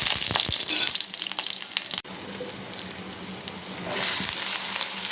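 Onions frying in a hot pan for an okra (bhindi) fry, a loud continuous sizzle with crackling bursts and a brief dip partway through, then the hiss swelling again.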